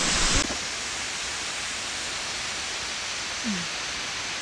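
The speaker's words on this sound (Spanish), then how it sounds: "Escuchan el agua caer." Falling water in a park in Chilean Patagonia makes a steady, soft rushing hiss that continues unbroken, like a distant waterfall.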